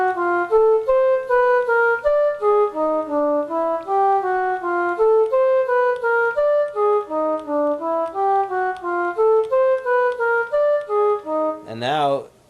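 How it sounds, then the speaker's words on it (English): An electronic Samchillian instrument steps through a tone row, playing a steady stream of clear, separate synth notes that move up and down the scale, loud and up close, then ends in a brief burst of rising noise. "Something else I built into the Samchillian is what I call a tone row feature."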